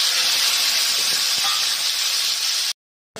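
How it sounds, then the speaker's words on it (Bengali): Tomatoes dropped into hot oil with five-spice (panch phoron) give a loud, steady hissing sizzle right at the pan, holding evenly before cutting off abruptly, with no talking. "তারপরে আমি টমেটোগুলো দিয়ে দেব।"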